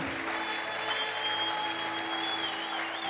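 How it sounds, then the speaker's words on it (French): A church congregation claps and cheers in praise during a French sermon, a steady wash of applause with held keyboard chords and a brief whistle-like tone. "Tu n'as pas bien acclamé, je suis étonné."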